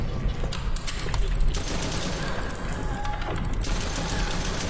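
Sustained rapid gunfire rattles on without a break as a player shoots at monsters in a horror video game, dense and loud over steady game noise.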